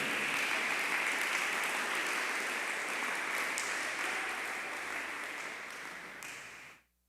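Church congregation clapping together at a Spanish-language service, a dense, steady wash of applause that carries on for several seconds and then cuts off abruptly.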